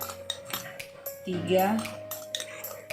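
A spoon stirs cake batter for Manado baked apam in a bowl, giving repeated clinks and scrapes against the dish, close and clear, with a low steady hum behind.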